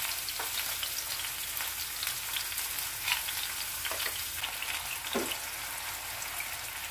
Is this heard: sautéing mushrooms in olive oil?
yes